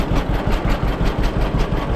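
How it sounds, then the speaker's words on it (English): A John Deere A tractor fitted with a front loader idles close by, its engine giving a steady, rhythmic low chugging that runs unbroken throughout. "I can just back the tractor out of there now"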